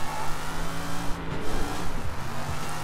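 A race car engine in the video game Sleeping Dogs drones steadily and loudly throughout, a continuous revving hum with no talk over it.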